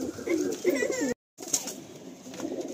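Madrasi pigeons coo softly nearby in a loft, the low burbling calls repeating over a quiet background, broken by a short silent gap.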